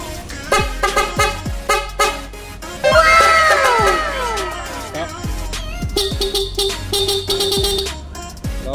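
A loud, piercing aftermarket horn on a Honda Click V3 scooter blares in a long wavering burst, surrounded by short repeated honks and thumps, close and prominent.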